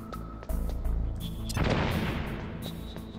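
C4 explosive detonating in Metal Gear Solid, a heavy blast that breaks through the game's background music and rumbles on to the end, with beeping game tones over it.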